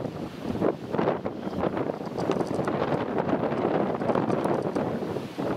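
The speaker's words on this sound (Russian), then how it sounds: "Ветер сильно сегодня, похолодало сильно." Strong gusting wind buffets the microphone outdoors on a cold day in rural pastureland, a dense continuous roar with rising and falling surges.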